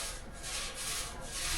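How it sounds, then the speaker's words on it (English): A small roller is pushed back and forth over a wood floor being prepped, giving soft, rhythmic rubbing swishes that rise and fall in repeated strokes, quiet and close. "I'm just taking this here small roller"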